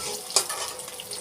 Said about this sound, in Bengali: লাল লাল করে এগটাকে ভেজে নেব।